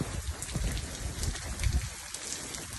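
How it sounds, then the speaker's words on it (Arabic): Heavy hail and rain pour down in the cold mountains of Al-Soudah, Saudi Arabia, a dense, continuous patter of drops striking surfaces nearby with occasional louder impacts and no talking. "تساقط البرد بكثافة"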